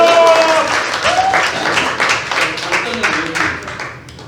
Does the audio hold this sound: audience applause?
yes